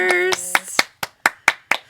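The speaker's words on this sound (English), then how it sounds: "was that a clap for me?" Hand claps in a home setting, a handful of sharp slaps in a quick irregular series after a short burst of excited talk, close and loud.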